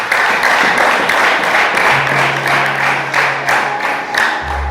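A church congregation claps together in dense, steady applause that carries throughout, fairly loud and close, with no speech over it.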